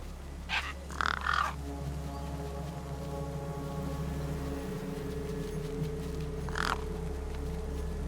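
Crows caw over a corpse in the video game Beyond a Steel Sky, giving a few harsh calls in a quick cluster and then a single later caw over a steady low ambient drone.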